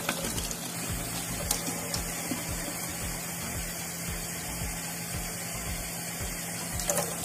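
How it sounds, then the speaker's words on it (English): Tap water running from a faucet in Pine Bluff, a steady broadband rush that holds evenly for the whole stretch, close and continuous with no talking over it. "This is Pine Bluff water coming out of the tap."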